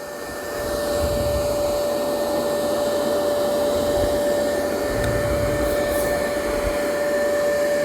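A Yeedi M14 robot vacuum cleaner powers up and runs with a loud, steady whirring drone and a high whine, close by and continuous, with no voices.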